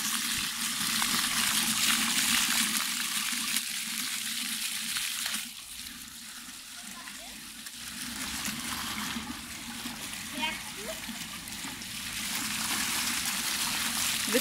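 Water from a ground-level playground fountain splashes and trickles onto barefoot shoes, a steady close hiss and spatter that dips briefly midway before rising again, with no talking.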